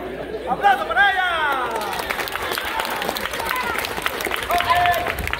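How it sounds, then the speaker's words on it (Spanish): Audience applause and cheering break out at a clown show at a children's baptism party, with clapping and crowd chatter running steadily throughout, a voice rising briefly near the start. "¡Aplauso para ella!"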